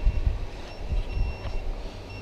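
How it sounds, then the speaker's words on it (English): A greenhouse temperature alarm beeping because the inside air has reached 30 degrees: faint, high, steady electronic tones recurring over a low rumble of wind or machinery. "you can possibly hear this one beeping away saying that the temperature's too warm"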